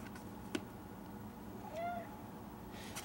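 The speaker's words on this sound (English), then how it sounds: "Oh, cat." A single faint cat meow rises and falls briefly in the middle of a quiet room, with a soft tap just before it.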